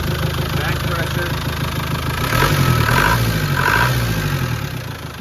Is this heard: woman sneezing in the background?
no